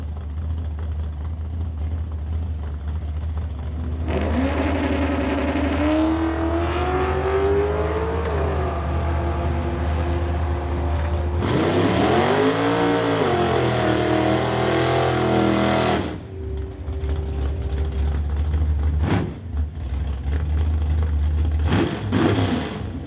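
Drag race cars launching at Mission Raceway, engines idling loudly before two hard bursts of acceleration that roar and rise in pitch as the cars pull away, then fade, with another engine revving near the end.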